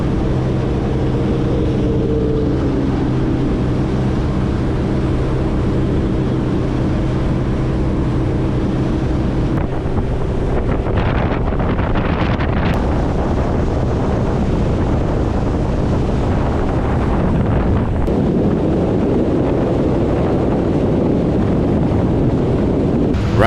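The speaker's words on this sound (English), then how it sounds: "right now we're cruising smooth, running south out of North Biscayne Bay on the Western Channel" Boat cruising at speed through Biscayne Bay, a loud, continuous rush of engine drone, water spray and wind buffeting the microphone, with no talking over it.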